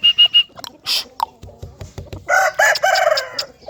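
An Amroha aseel rooster crows close by in a loud drawn-out call after a few short clucks and chirps, with no talking.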